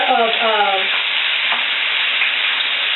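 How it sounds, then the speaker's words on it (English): Cooked turkey is mashed and stirred in a hot pan, the steady, loud sizzle of frying continuing close up throughout. "go ahead and smash this turkey up"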